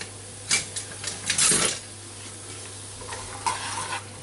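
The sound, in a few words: onions being stirred and cooked gently in a pan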